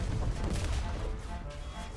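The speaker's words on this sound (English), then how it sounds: "A lot of explosions around here." Loud explosions in a video game, a dense, booming barrage of blasts and crashes rumbling without pause, with heavy low-end thuds that ease slightly toward the end.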